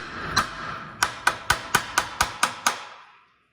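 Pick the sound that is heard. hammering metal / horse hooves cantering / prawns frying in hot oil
hammering metal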